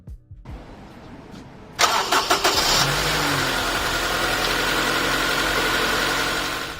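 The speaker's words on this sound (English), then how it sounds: "I'm gonna check if car starts up and everything works" A 2001-2005 Honda Civic engine cranks briefly after a new battery is fitted, catches with a loud burst and settles into a steady close idle, with no talking.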